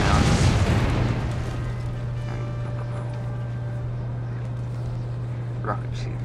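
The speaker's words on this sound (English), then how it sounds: "Rockets explode." Rockets explode on a Napoleon Total War battlefield: a heavy, loud blast at the start fades into a long low rumble and hum, with a faint thud later on.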